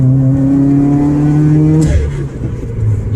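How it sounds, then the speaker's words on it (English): Modified Subaru WRX with a Cobb tune and flex-fuel pump, accelerating onto a highway: a loud engine drone climbs in pitch, then cuts off abruptly with a sharp whooshing release from the bypass valve and Perrin turbo inlet before rougher rumbling resumes. "You can really hear that Boomba bypass valve."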